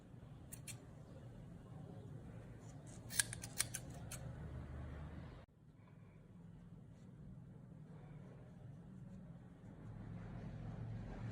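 A few quick close snips of scissors cutting yarn ends under a steady low rumble of background noise, then quieter rumble afterward.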